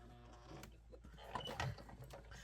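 An old sewing machine stitches fabric for a rainbow dress, a quiet uneven mechanical whir and clatter in short slow bursts, faint and close.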